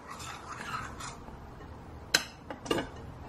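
Whole wheat flour, baking soda and spices being stirred together in a bowl for gingerbread dough, heard as soft scraping and rubbing strokes with a few sharper clinks of the utensil against the bowl near the end.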